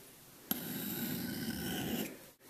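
A router blade is rubbed flat across a sharpening stone at about 45 degrees. It makes one continuous, close, gritty rasping stroke lasting under two seconds, with a brief scrape at each end.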